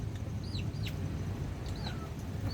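Chickens clucking outdoors, with a few short high calls rising faintly over a steady low background rumble, fairly distant and quiet.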